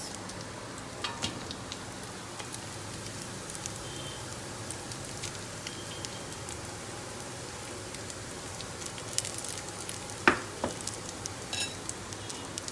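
Cooked mutton pieces go into a pot for Indo Persian biryani, giving a soft, steady sizzle with scattered crackles and a sharp clatter of utensil against the pot near the end.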